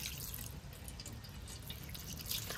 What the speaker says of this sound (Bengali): এর জন্য ছানাটাকে ভালো করে ধুয়ে নেব ঠান্ডা জল দিয়ে।